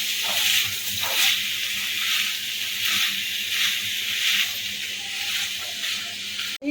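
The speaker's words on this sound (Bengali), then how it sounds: "আমি এই মশলার সাথে রাজমাটাকে কষাতে থাকবো" Kidney beans fry with a spice masala in a pan for dhaba-style rajma, giving a steady, close, bright sizzle with faint stirring scrapes throughout.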